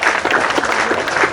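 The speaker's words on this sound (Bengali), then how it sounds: "এর জন্য একটা জোরে করতালি হয়ে যাবে।" An audience gives loud, close applause at a live game show to honour the ultimate winner of a left-or-right game, a dense burst of many hands clapping steadily throughout.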